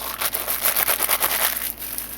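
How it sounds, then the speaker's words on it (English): A plastic bag crinkles and rustles close by in a quick, irregular run of crackly bursts that eases off toward the end, with no voices. "There's our plastic bag ASMR."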